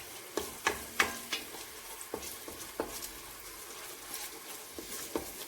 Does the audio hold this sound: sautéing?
yes